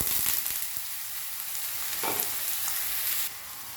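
Chopped onion fries in a pan with a dense, steady sizzle that stays close and loud throughout, broken by a brief stirring scrape partway through.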